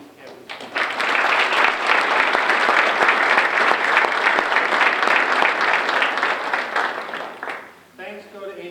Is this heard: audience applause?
yes